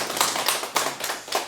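Church congregation at a Sunday service applauding, a short burst of dense clapping with irregular louder peaks, fairly close and without talk over it.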